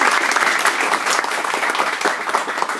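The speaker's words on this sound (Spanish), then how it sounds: "Aplausos, por favor." Audience applause after a short presentation: dense, steady clapping from many hands, loud and close, filling the whole stretch without a break.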